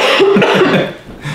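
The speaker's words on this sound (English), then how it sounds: "I'm also suffering from the tail end of the cough from hell" A man's lingering cough at the tail end of an illness, a short burst of rough, throaty hacks close to the microphone and fairly loud, settling into a quieter breathy pause.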